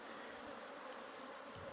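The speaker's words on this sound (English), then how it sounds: "Look at what's going on here with these bees" Bees at a colony taking pollen substitute during a feeding, a faint, continuous buzzing hum of many insects with no talk.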